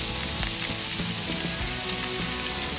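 Blackened striped bass fillets fry in a hot pan with a loud, dense, continuous sizzle. The crackle is close and steady throughout, and no voices are heard.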